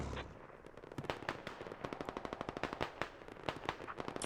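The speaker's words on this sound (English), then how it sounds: "Yeah, he's shooting me." Rapid machine gun fire from a military video game set in an amphibious beach assault with armored vehicles, heard as a long, steady stream of sharp shots, fairly faint and with no talk.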